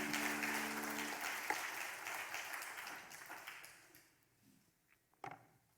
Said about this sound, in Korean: 박수 한 번 더 하시겠습니다